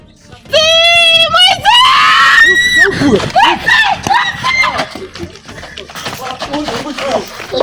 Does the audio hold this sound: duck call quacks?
no